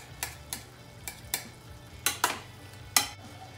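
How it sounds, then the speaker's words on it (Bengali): Pumpkin pieces stirred in a pan, a scraping spoon giving about seven short scratchy strokes at an irregular pace, close and alone over a low simmering hum. "ভালো করে কুমড়োগুলোকে ঘেঁটে দেব আমরা"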